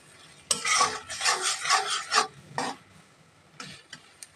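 Ghetkol leaf paste being stirred into oil in a pan, a rough scraping and rubbing that comes in close bursts, steady for a couple of seconds and then broken into a few short strokes.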